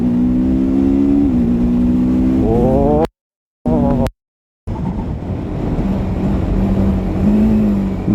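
A TVS Apache RTR 310 motorcycle accelerates hard while quick shifter gear changes cut in, two abrupt silent breaks in the rising engine tone before it pulls on, loud and close with wind rush throughout.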